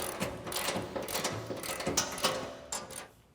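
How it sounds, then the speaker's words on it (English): A ratchet wrench tightens the blade attachment and stop bolts on an ATV snow plow, making close, rapid clicking in several uneven bursts. "We're now going to go ahead and tighten up both blade attachment bolts and both blade stop bolts to a manufacturer specification."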